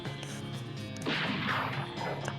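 Video game gunfire in West of Loathing comes as a dense, noisy burst of cartoonish shots over a steady background music bed, moderately loud and continuous for about a second.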